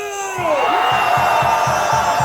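A loud, continuous cheer from a rally crowd at Dongdaegu Station's Park Chung-hee Square swells after a brief lull and holds steady with a throbbing low rumble of many voices.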